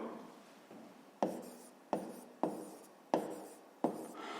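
A pen scratches across paper as a fifth-grade math solution about cube volume is written out by hand, in about half a dozen separate strokes that each begin sharply and then fade, close and quiet.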